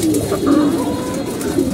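Pigeons coo loudly and close in a dense loft just before feeding, several low rolling calls overlapping over steady background noise.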